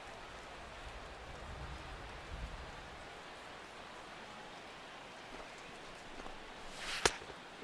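Steady rain falling over a ballpark during a baseball game in MLB The Show 16, a soft continuous hiss alone at low level, with a brief sharp tap near the end.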